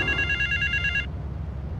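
A telephone rings in the video game GTA III: a bright electronic trilling ring for about a second, then it stops over a low ambient background.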